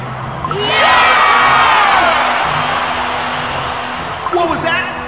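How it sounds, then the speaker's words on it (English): Arena crowd at a monster-themed games event erupts in loud, sustained cheering, whoops and shouts that swell within a second and hold steady, thinning slightly toward the end as a few higher voices call out. "We're gonna need a louder round of applause!"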